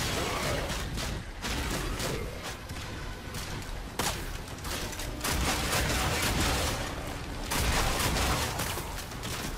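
Shotgun fire in the video game Warframe: repeated booming blasts, with a few sharp, louder shots standing out from a dense, steady wash of game action and effects.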